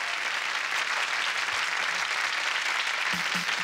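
A 1987 TV variety show studio audience gives a singer loud, dense applause, a continuous wash of many hands clapping at close range with no break.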